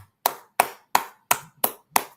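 Six sharp, evenly spaced claps ring out alone at the end of a history class, close and distinct with brief decays and silence between each one.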